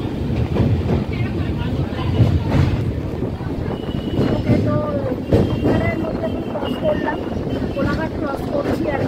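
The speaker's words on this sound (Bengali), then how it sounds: "কোলাঘাট ক্রস করছি এখন, এক্সাক্ট ঠিকঠাক টাইমে ট্রেন ছেড়েছে।" Shalimar-Puri Dhauli Express in motion, a steady broadband rumble with faint rhythmic clatter heard from on board, running continuously throughout with people talking in the background.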